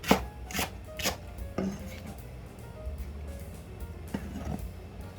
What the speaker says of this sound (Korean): 오늘은 대파를 통으로 안 넣고요. 그냥 이렇게 썰어서 넣겠습니다.